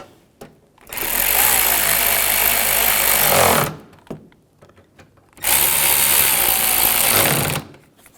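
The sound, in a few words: bolts being tightened on BMW 550i grille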